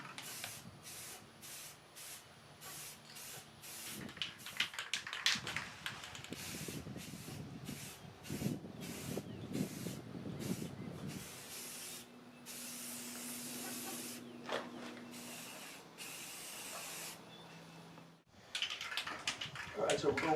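Spray paint hissing onto dining room chairs during a home makeover, coming in repeated short bursts and longer steady sprays with brief pauses between them, close and fairly loud, with a voice heard now and then.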